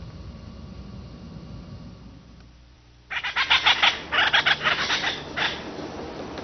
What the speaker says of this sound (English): Sociable and noisy, the acorn woodpecker is almost always found in groups, in oak trees.